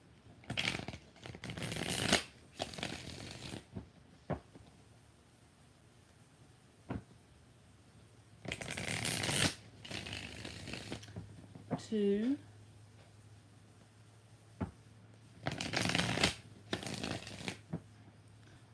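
Bursts of tarot cards being shuffled, several rapid riffles separated by pauses, close and fairly loud, with a short spoken word and a brief squeak between, during a live tarot reading.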